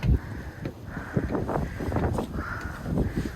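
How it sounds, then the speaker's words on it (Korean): Cold wind gusting on a mountain hiking trail, buffeting the microphone in uneven rushes and thumps, fairly faint and continuous, with scattered rustles and a few brief voices. "바람이 너무 차네요"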